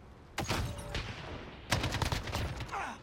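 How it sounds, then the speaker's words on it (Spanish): Automatic machine gun fire from the video game Call of Duty Modern Warfare comes in two loud, close bursts of rapid shots separated by a brief lull, with a faint voice underneath. "¡Ametralladora lanzada!"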